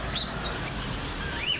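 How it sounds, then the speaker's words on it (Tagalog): Small American birds in a pet shop in Silang, Cavite give faint, scattered high chirps and short tweets over a steady indoor background hum. "Yan, American bird nila."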